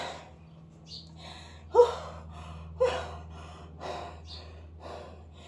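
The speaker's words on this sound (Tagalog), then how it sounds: "Hinihingal talaga ako" Heavy breathing and gasps from a person worn out after dancing while carrying a heavy puppy, with two sharp loud gasps standing out among softer panting breaths over a low steady hum.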